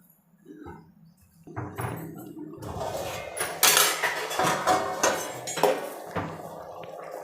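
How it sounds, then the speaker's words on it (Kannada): Metal plate clattering and clinking onto a pan of eggs cooking in curry, several sharp bright knocks and scrapes in a quick series, close and fairly loud. "ಈಗ ನಾನು ಪ್ಲೇಟ್ ಮುಚ್ಚಿ ಸ್ವಲ್ಪ ಹೊತ್ತು ಸಣ್ಣ ಉರಿಯಲ್ಲಿ ಬೇಯಿಸ್ಕೊತೀನಿ"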